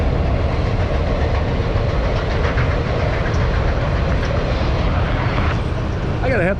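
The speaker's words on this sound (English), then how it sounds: "We got an old locomotive coming into town." An old locomotive rolls into a small town on tracks running through the middle of it, a loud, steady rumble with rhythmic clatter that holds close and constant throughout.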